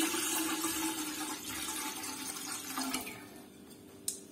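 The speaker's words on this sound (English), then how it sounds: "First, I add water." Water pours into a large pressure cooker with a steady rushing splash that holds for several seconds, then eases off, ending with a small metallic clink; nobody speaks.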